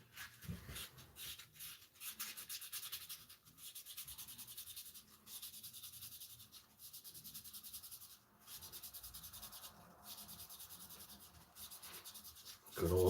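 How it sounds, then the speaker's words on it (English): Sandpaper rubs against a silver eagle coin ring in quiet repeated strokes, a soft rhythmic scratching with short pauses between passes, close and faint. "It was some sandpaper."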